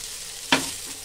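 Soya chunks frying in a kadhai, a steady broadband sizzle with a sudden brief stir-and-scrape burst midway, no talking.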